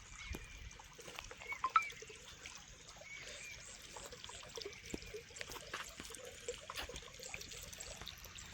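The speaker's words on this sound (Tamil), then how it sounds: "தண்ணி வரும் கொல கொலன்னு கிடக்குது" Water from the Avinashi Athikadavu scheme flows into a fish pond, a soft, continuous trickle and gurgle with occasional small splashes, faint and steady throughout.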